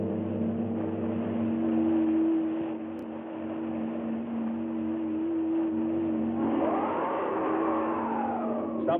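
A car engine runs in a steady, loud drone with a rising pitch as it revs, heard alone with no talking.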